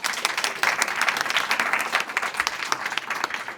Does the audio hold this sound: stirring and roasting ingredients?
no